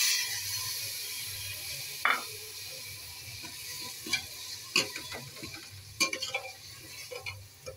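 Tomato puree with turmeric frying in oil in a pan, a steady hiss of sizzling under repeated spoon scrapes and clacks against the pan, close and moderately quiet.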